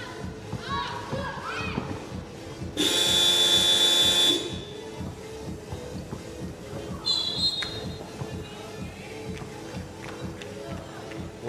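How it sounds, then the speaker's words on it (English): A shot clock buzzer at a FIBA 3x3 U23 Nations League basketball game blares once for over a second, loud and steady over arena noise, with a shorter electronic tone later and commentary running underneath. "the shot clock buzzer woke you up"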